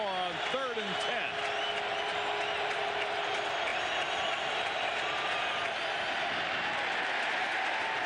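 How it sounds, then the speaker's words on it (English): A large stadium crowd in Baltimore roars on its feet during a third-and-10 NFL play, a dense sustained cheer under an announcer's voice. "Crowd on its feet here in Baltimore on 3rd and 10"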